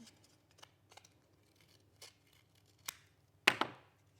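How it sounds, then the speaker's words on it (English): Scissors snip through a cardboard egg carton cup, trimming it into a small bowl for a craft poppy; a few soft, sparse cuts lead to one louder crisp snip near the end, with no talking. "I'm just going to cut around to make a little bowl."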